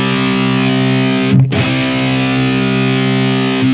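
An Enya Inspire travel guitar on its humbucker pickup rings out a loud, heavily distorted sustained chord, cut by a brief choked gap before being struck again and left to ring.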